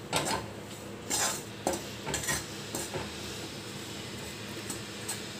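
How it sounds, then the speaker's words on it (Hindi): Flour being stirred and roasted in a pan for a homemade sweet, with repeated scraping strokes of a spoon against the pan every second or so over a soft ongoing sizzle, close and fairly loud. "इसको मिक्स करते हुए भूनना हमको कम से कम 8 मिनट इस आटे को अच्छे से।"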